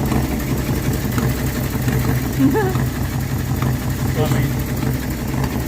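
A Ford Galaxie engine idling steadily on a replacement carburettor, a constant low rumble heard close with people talking over it.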